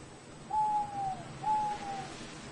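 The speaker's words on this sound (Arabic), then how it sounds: "تصطاد البومة المصفرة صغائر الثدييات كما أنها تأكل الحشرات" Two tonal owl hoots sound in a forest setting, each a steady drawn-out note followed by a short lower tail, spaced about a second apart over a faint background hiss.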